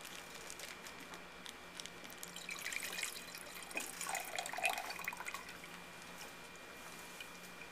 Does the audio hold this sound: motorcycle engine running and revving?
no